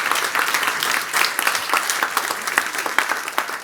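Sustained audience applause at the AsiaBerlin Summit, a dense even patter of many hands clapping steadily throughout, close and fairly loud with no speech over it.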